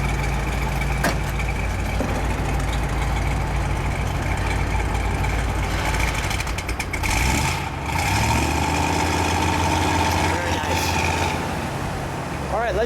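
A 1960 Ford Thunderbird V8 with dual exhaust rumbles at idle close by, then gets a short blip of throttle that swells and settles back to a steady burble.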